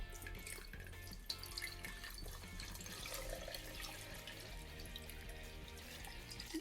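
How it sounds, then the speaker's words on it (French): Water pours and splashes steadily into a jar holding a Galaxy S8 smartphone, a continuous close, trickling flow with faint dripping textures throughout. "start et on met l'eau"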